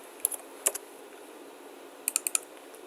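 Computer keyboard keystrokes in two short bursts, a few quick clicks early on and a tighter cluster of four or five near the end, with quiet gaps between them and no talking.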